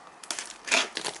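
Mail package being cut open: a few short crinkly cutting and crunching bursts, close and moderately loud, with one stronger rasp midway and no talking.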